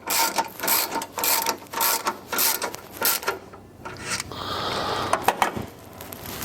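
A furnace's nuts are being snugged back in place with a ratchet, producing a string of close, rhythmic clicking and ratcheting strokes with brief pauses and small metallic rattles.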